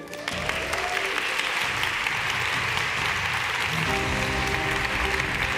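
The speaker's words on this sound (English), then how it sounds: "Big round of applause for you." Steady, full applause from an audience at a talk on self-confidence, sustained dense clapping at an even loudness throughout, with faint voices and cheers mixed in.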